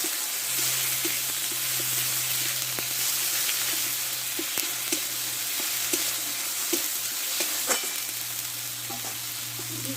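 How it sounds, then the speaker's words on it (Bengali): Ginger, green chili and cumin paste frying in a pan with turmeric, a steady close crackling sizzle lasting the whole time with occasional small pops and stirring scrapes, plus a low constant hum in the background. "আমি মশলাটা একটু কষে নেবো ভালো করে।"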